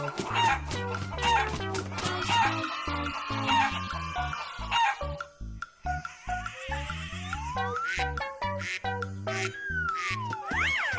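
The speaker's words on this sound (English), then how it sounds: "Chicken." A cartoon chicken clucks in quick, repeated bursts, with a few crowing calls mixed in, over loud, bouncy music that continues throughout.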